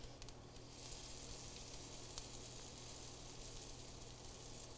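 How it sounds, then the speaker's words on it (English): Bacon and a pancake sizzle together on a hot griddle during holiday breakfast cooking, a faint steady hiss holding at an even level throughout with no talk over it. "The bacon's starting to give a little sizzle."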